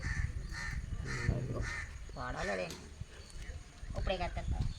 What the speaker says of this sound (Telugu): ఓ పక్క నుంచి ఏమో కాకులు ఓ పక్క నుంచి ఏమో కోకిల